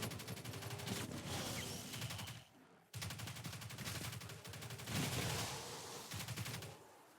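Rapid automatic gunfire from the Risk Runner in Destiny 2, shredding through Fallen enemies in a room, dense continuous bursts broken by a brief pause, fairly loud with game effects layered over it.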